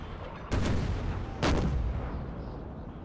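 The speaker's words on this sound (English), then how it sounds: "Let's get a look at the guns that are doing such vicious firing here." Artillery cannons firing during a Gettysburg battle at Culp's Hill in the video game Napoleon Total War, American Civil War mod: two heavy, booming shots about a second apart, a third starting at the very end, over a low rumbling battlefield background.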